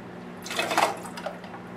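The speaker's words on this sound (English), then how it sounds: "So I'm going to put in 3 shots of orange juice." Orange juice poured into a cocktail glass for a Harvey Wallbanger, a brief close liquid gush that swells and then tapers into a thin trickle, with a steady low hum beneath.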